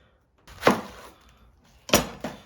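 A knife chops through a head of cabbage into big chunks on a cutting board, three crisp separate strikes, the last two close together, loud and near with quiet between.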